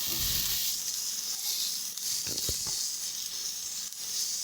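Chopped onions and spices frying in a pan for a winter potato and green pea dum, sizzling loudly and steadily up close, with a few brief scraping stirs partway through.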